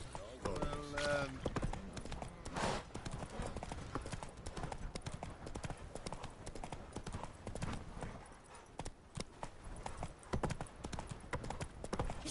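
Roach the horse galloping in The Witcher 3: Wild Hunt on PS5, a fast steady clatter of hooves running on under game music and a voice, with a brief whinny near the start.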